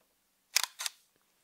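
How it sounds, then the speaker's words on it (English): Panasonic Lumix GX1 camera shutter fires once, a crisp close double click of the shutter opening and closing, alone in a quiet room. "And another interesting thing is the shutter's quite loud."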